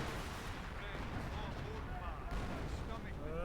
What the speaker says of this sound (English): Ah, nice use of artillery there.